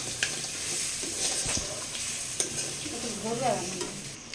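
Crab masala being stir-fried in a wok: a close, continuous sizzle with repeated scraping and stirring strokes and occasional sharp clinks of the spatula against the metal.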